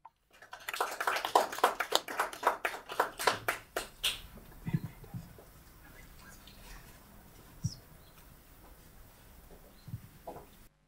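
A small group gives a brief round of applause for a speaker at a virtual product launch, with quick, fairly quiet claps for about three seconds, then near silence with a few faint knocks.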